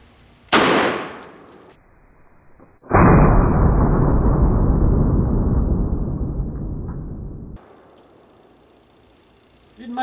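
Two gunshots at a steel door target set at an angle on an outdoor range: a sharp crack, then a louder blast ringing out for several seconds and decaying, with a faint tail after.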